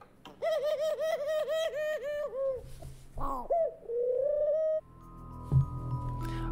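A pigeon coos in a rapid, rhythmic series of warbling calls, then gives a longer drawn-out coo, close and clear, followed by quieter background noise and a faint thump.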